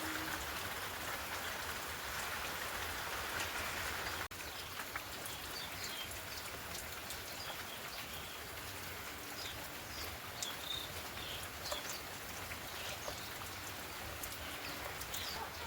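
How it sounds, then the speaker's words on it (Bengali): Heavy rain falling outdoors after a night-long downpour, a steady, even hiss of drops on surfaces with a few faint bird calls in the distance, no voices. "আর এখনো পর্যন্ত বৃষ্টি হচ্ছে"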